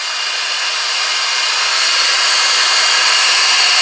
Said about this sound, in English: We're going to take our heater. We're going to heat it up.